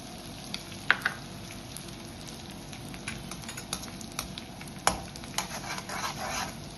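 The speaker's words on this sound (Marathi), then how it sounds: "आता आपण हे त्याला जरा करून तळून घेऊया" Edible gum (dink) frying in ghee for winter fenugreek laddoos: a faint, steady sizzle dotted with small pops and light patter, plus a couple of sharper clicks.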